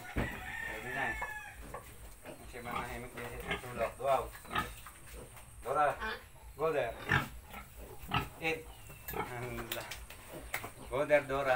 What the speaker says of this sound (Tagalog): Napakabait naman ang baboy na to.